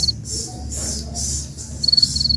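A field cricket chirps in rapid, evenly spaced pulses, close and clear over a low steady background hum, with no talking.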